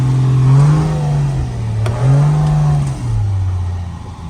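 A Nissan Patrol 4x4 engine revs and accelerates close by, its drone rising and falling in pitch over a few seconds with no talk.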